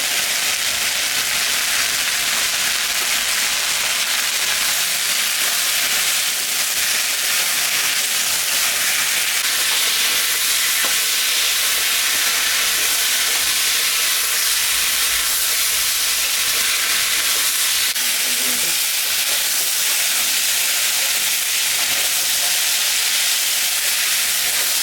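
Small chela fish fry in hot oil with salt and turmeric, a loud, close, unbroken sizzling hiss that holds steady throughout.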